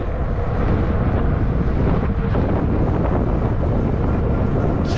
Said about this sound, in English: Hope you can hear me over the wind.